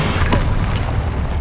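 A forceful Repulsor spell cast in the wizarding game Hogwarts Legacy, a short, loud, low booming burst with a sharp whoosh near the start, alone without talk.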